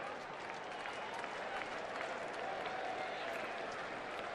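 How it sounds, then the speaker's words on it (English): A baseball stadium crowd at a Reds–Diamondbacks game in Arizona gives a mocking Bronx cheer, a broad, steady wash of jeering and scattered clapping heard from a distance, sustained without letup. "Bit of a Bronx cheer there from the fans down below."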